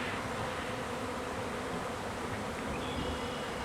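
Honey bees buzz steadily around hive frames where new comb is being built, a dense, continuous drone heard close up with no talking.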